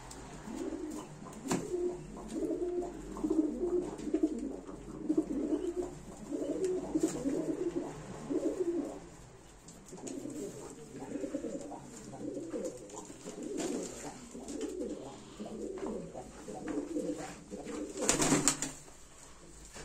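Iraqi Şarabi pigeons coo steadily in a loft, a near chorus of low rolling coos repeating throughout, with a brief louder flutter near the end.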